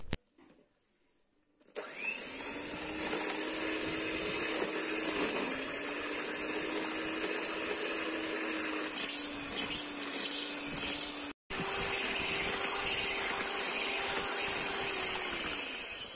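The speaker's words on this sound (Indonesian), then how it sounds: "saya akan mixer semua bahan ini. Makin sering di mixer, makin mengembang dan bagus." An electric hand mixer whips ingredients for a low-cost homemade business recipe, with a steady, loud motor whine running nearly unbroken after a quiet start and a brief cut near the end.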